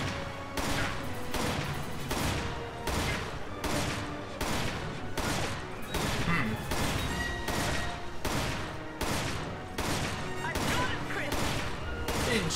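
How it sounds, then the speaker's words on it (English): Rapid magnum gunfire in a video game rings out as a dense series of loud, evenly spaced shots, roughly two per second, over continuous game noise. "You are shooting with that magnum I gave you"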